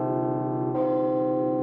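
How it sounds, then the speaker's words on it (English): A carillon bell at the Netherlands Carillon in Arlington, Virginia, struck by a wire-pulled mechanical clapper, a rich sustained ring joined by a second fresh strike partway through, loud and close with no voices. "When I press this baton, it pulls a wire that pulls a clapper to strike the bell."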